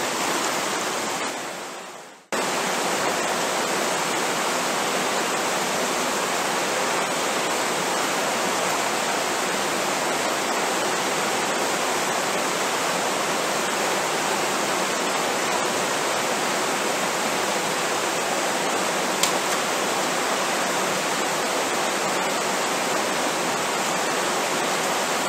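Water flows through a fluid bed gold trap set in a stream, a loud, constant rushing wash that fills the scene without a break, starting after a brief rustle.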